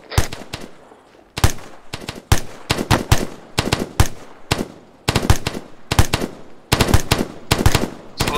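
Automatic gunfire in the military shooter ArmA 3: repeated loud bursts of machine-gun and rifle fire, several volleys a second apart, rattling sharply over about eight seconds with brief gaps between clusters.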